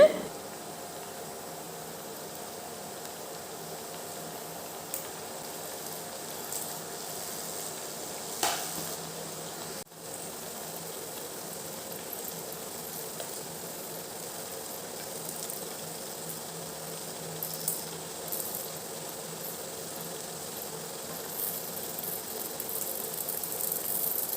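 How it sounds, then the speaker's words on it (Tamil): Mini thattai rice crackers deep-fry in hot oil over a high flame, giving a steady, even bubbling hiss that holds for the whole stretch with a few small pops and no voices. "இப்போ நம்ம ரவுண்டாக தட்டி வச்சுருக்கிற மினி தட்டையை எடுத்து எண்ணெயில் பொரிச்சு எடுத்துடலாம்."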